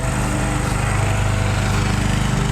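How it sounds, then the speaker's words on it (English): A lawn mower engine drones steadily nearby outdoors beside a pork butt smoking on an offset smoker, loud and continuous with a pulsing buzz, with no other sounds over it. "the lawnmower picks up right when we're doing this"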